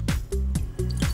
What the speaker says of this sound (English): he pours the two together